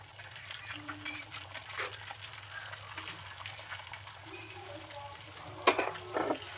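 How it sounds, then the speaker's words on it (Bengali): Asafoetida, chopped ginger and slit green chillies frying in hot oil for chole, a steady close sizzle with faint stirring clatter and a few sharp utensil knocks near the end. "এর মধ্যে দিয়ে দেবো সামান্য হিং, আর দিয়ে দেবো কুচি করে কেটে রাখা আদা আর 4-5টা কাঁচা লঙ্কা চিড়ে রেখেছিলাম সেটা"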